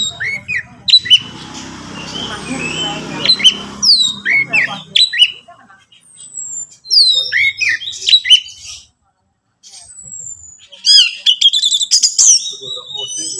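Orange-headed thrush (Anis Merah) singing in a lively run of sharp chirps, whistles and rapid tweets, loud and close, with a brief silent gap before the song resumes.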